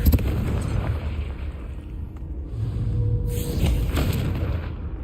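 Confringo fire-blast spell goes off in Hogwarts Legacy with a sharp, loud explosive burst at the start, then a low rolling rumble and crackling debris that fades over several seconds.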